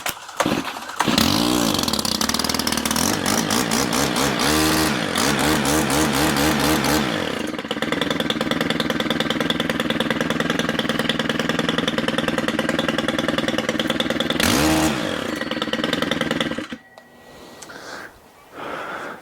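A Stihl KM131R trimmer engine starts on choke, then runs loud and close, with repeated revving bursts and a rough idle before cutting off near the end.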